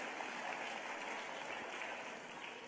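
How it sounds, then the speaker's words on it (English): A faint, distant audience applauds at a teacher of the year celebration, a soft steady wash of clapping that fades slightly toward the end. "A big round of applause for Trixie Slaughter."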